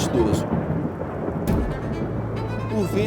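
Rolling thunder from a storm in a narrated tale, a steady low rumble with two sharper cracks, carrying on loud for about three seconds with no voice over it.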